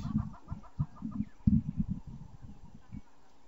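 Clucking, honking goose calls come in quick bursts over the first three seconds, some overlapping, then fade to quiet background.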